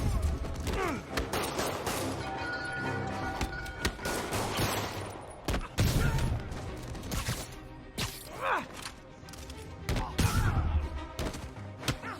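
Rapid gunfire and bursts of automatic shots crackle through a Marvel's Spider-Man combat scene, dense and continuous over twelve seconds with thuds, impacts and scattered game voices mixed in.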